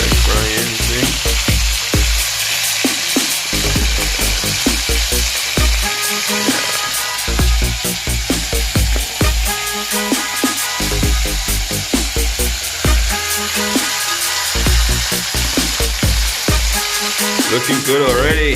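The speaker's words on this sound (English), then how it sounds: "So I'm gonna put it in the pot now. Yep. We're gonna fry them pretty crispy." Chicken pieces deep-frying in hot oil in a pot for a Jamaican-style chicken chop suey, a loud, steady crackling sizzle with dense popping that carries on throughout.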